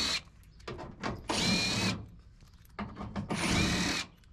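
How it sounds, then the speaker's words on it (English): Power drill spinning out inner fender well screws on a 2020 RAM 1500 during a driveway lift-kit install, two sustained whirring bursts separated by shorter clicks and handling noises, close and clear. "Now I gotta take out all these screws for the inner fender well."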